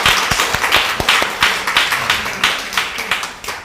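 A church congregation claps in welcome during a Sunday service. The quick, rhythmic claps sound full and close, with no talking.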